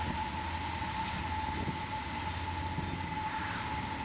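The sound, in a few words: freight container train passing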